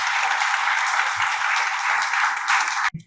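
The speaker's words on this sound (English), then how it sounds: "if we can give them a round of applause" An audience at San Luis Obispo's first homelessness response forum applauds a panel. The dense, even clapping runs for about three seconds, then cuts off abruptly and is followed by a brief low thump.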